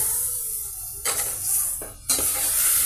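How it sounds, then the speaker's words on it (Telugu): Semolina frying in ghee with milk added over a low flame, a steady close sizzle broken by bursts of stirring and scraping in the pan. "ఈ మిల్క్తో కూడా మన రవ్వని ఇలాగే ఫ్రై చేద్దామండి."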